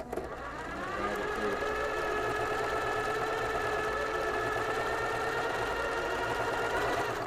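A sewing machine stitches steadily through eight layers of folded denim, a loud, continuous mechanical whir with an even rhythm that holds for several seconds.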